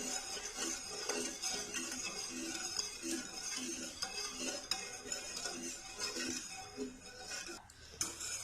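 A spoon stirs and scrapes through thickening Marie biscuit dessert batter in a pan, making a steady run of soft rhythmic clinks and scrapes that repeat about every half second at close range, with no talking.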